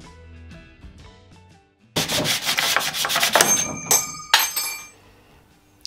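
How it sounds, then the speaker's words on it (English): Rough, rhythmic rasping of painted wood being sanded by hand with a sanding sponge, close and loud, following a short quieter stretch of faint tapping. "Then I went in with sandpaper to refine it, and then finished with a sanding sponge."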